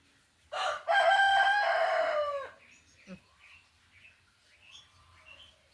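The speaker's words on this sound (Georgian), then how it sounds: "აქეთ მეორე მამალი ხმაურებოდა" A rooster crows once, loud and close, a long harmonic call that rises and trails off, followed by quieter scattered bird chirps in the background.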